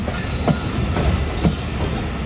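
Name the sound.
train departing Hyderabad Junction railway station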